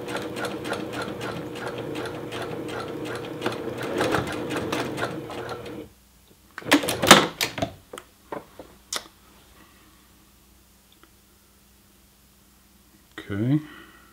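A sewing machine stitches a T-shirt seam at a half-inch mark, running steadily in a fast rhythmic whir for several seconds, then stopping, followed by a few short bursts and clicks of handling.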